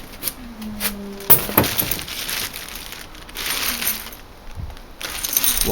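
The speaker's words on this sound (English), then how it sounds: "Lots of nuts and bolts in a sealed bag" A sealed plastic bag of nuts and bolts is handled up close: metal parts clink and jingle inside while the bag crinkles, in irregular bursts.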